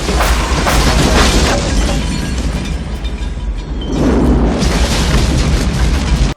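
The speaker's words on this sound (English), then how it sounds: "the bomb explodes, killing everyone inside" A large bomb explosion in the film Village of the Damned: a loud, sustained roaring blast that fills the whole clip, easing briefly in the middle before surging again and cutting off abruptly, with no talk.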